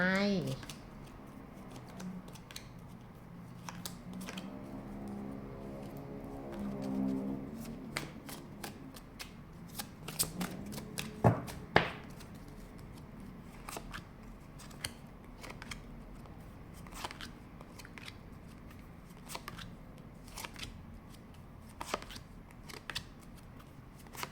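Tarot cards are shuffled and flicked in crisp, rapid riffles and snaps, with scattered sharp taps as cards are picked, under someone speaking Thai softly at the start.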